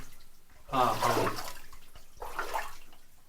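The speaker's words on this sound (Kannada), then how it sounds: "ಇಲ್ಲಿ ಕೂಡ ನೀರು ಬರ್ತಾ ಇದೆ ನೋಡಿ ನೀರು ಬರ್ತಾ ಇದೆ" Water flows through an underground irrigation tunnel with a soft, steady trickling wash, while people talk nearby over it.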